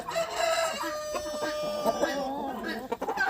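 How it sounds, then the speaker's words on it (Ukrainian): A Cochin rooster's drawn-out crow rings out close by in a poultry yard, with some clucking and a voice speaking nearby. "Такий кохінхін у нас новий."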